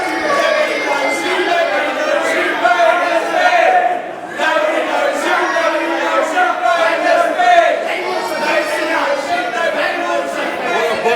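A vocal crowd at a wrestling show in the Geelong Training Hall keeps up continuous loud chatter and shouting, with voices overlapping in the room and a brief dip partway through.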